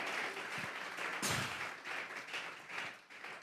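A church congregation applauds during a Spanish-language worship service, with steady, fairly faint clapping that sounds like a room full of hands, plus a few louder claps and thumps mixed in.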